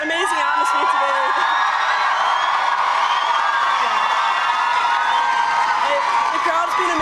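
Crowd at a women's Six Nations rugby match between Scotland and Ireland, 2023, roars with steady broadband cheering and whoops throughout, loud and continuous, with a voice speaking over the top.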